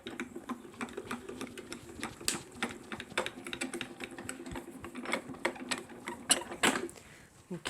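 A die cutting machine running craft dies through, giving a steady rapid mechanical clatter with sharp ticks and clicks, fairly quiet and close, with no talk over it.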